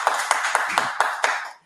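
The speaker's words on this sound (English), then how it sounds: "Big round of applause for Rani, yes." A small audience at a women entrepreneurs' club gathering applauds in a brief burst, with a handful of distinct sharp claps over a continuous clapping wash that stops abruptly, sounding close and fairly small-group.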